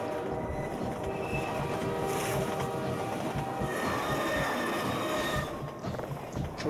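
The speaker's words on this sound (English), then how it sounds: "So we have a train that is gonna come attack us." Train approaching during Highway 17 in the video game Half-Life 2: a steady, loud rumbling clatter of rail cars that holds throughout, with a faint rhythmic knocking and no speech.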